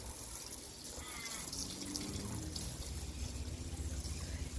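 Water is poured and splashed steadily to wash down a worm farm outdoors, a continuous rushing, gurgling stream with light background noise throughout.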